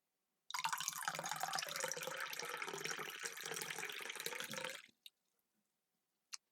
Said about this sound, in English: may I pour you a cup of tea?